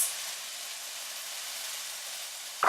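Mushrooms fry in a pan with a steady, close, soft sizzle and hiss, and a sharper burst of sizzling breaks out at the very end.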